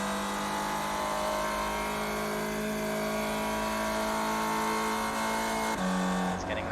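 A Spec Racer Ford race car in iRacing at Phoenix Raceway, its engine holding a steady high-pitched drone at speed, then briefly dropping pitch near the end as it shifts or lifts.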